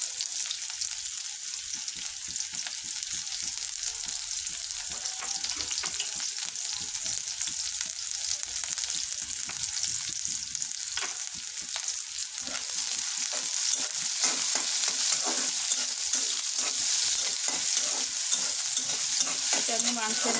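Onions and a bay leaf frying in oil, a steady hissing sizzle that grows louder and busier midway, with irregular scraping and stirring throughout.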